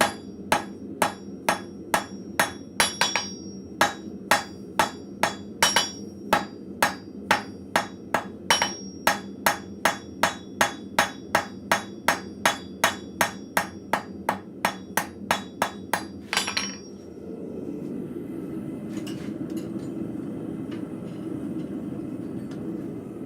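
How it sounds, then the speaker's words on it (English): A blacksmith strikes hot iron with a 2-pound cross peen hammer in a forge, delivering a long run of loud, evenly paced ringing blows that stop abruptly, leaving a steady low roar from the fire. "I'm just using my 2-pound cross peen today."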